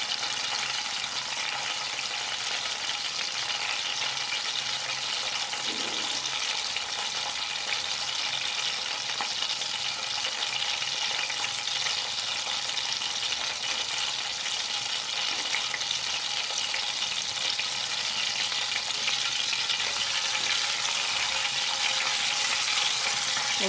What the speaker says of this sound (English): So we are going to fry it off a little bit just to give our oil that smell